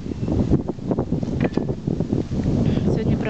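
Gusty wind buffets the microphone outdoors on a cool day, a constant rough rumble with muffled voices talking underneath.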